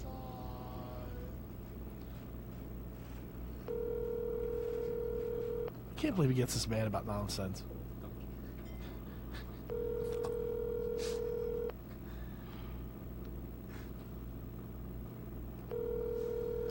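A phone call rings out unanswered on an outgoing line. Three evenly spaced ringback tones sound faintly, with people chatting and reacting over the background hum between them.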